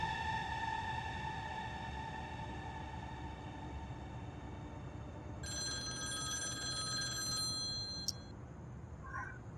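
A telephone rings with steady electronic tones in a Pakistani TV drama scene, a continuous ring that shifts to a brighter higher ring partway through, fairly clear over a low background hum, with no talk.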